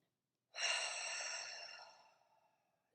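A long, deep breath out during a guided breathing exercise: a soft, airy rush that swells quickly, then slowly fades over about two seconds, heard close and alone.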